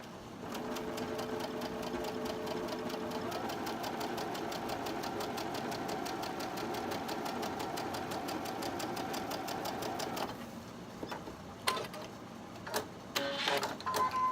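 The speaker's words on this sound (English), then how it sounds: "We're going to sew these two pieces together." A sewing machine runs steadily and fairly loud, joining two pieces of fabric for a quilted barn block, then stops near the end, leaving a few scattered handling clicks and rustles.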